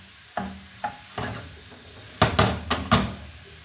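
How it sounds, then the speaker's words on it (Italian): Half a small chopped onion, about 20 g, dropped into olive oil in a pan for a mushroom and tomato bucatini sauce, giving a few short sizzling bursts and stirring clatters, close and fairly loud. "Versiamo un fondo d'olio e versiamo la cipolla trita"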